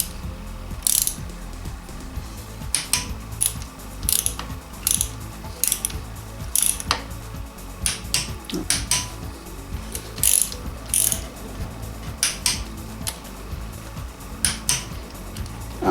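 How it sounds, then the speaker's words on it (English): Ratcheting clicks from a torque wrench set to 14 newton meters, tightening camshaft cap bolts on the cylinder head of a Suzuki RF 900; repeated short bursts of metallic clicking, close and clear, with no talking. "torque wrench set up to 14 Newton meters"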